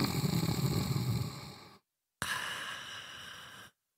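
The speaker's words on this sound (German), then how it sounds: "Doch statt einer Antwort bekommt er nur ein leises Schnarchen zu hören." Soft snoring from a sleeping zoo director in a bedtime audiobook story: two slow, breathy snores separated by a short silence, heard over a faint tonal music bed.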